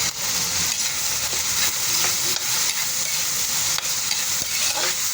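Dry peanuts stirred and sautéed in a pan for palabok give a steady, close sizzle with scraping of the stirring throughout, alone and without talk.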